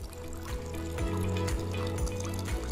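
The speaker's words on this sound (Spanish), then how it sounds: "un entorno donde solo se escucha el leve fluir del agua" Water flowing gently at a very long stone trough fountain used as an animal watering place in a quiet rural village in Soria, a soft continuous trickle and splash at close range, with no voices.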